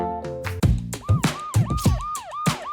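Cartoon fire truck siren, a quick repeating electronic wail with sweeping up-and-down tones over a few seconds, loud and close, alone without talk.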